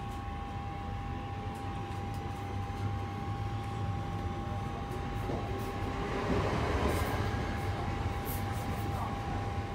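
A train pulls out of Shenstone station, a steady, fairly loud rolling rumble with constant tonal whine and a brief swell of rattling midway, heard from inside the carriage with no talking.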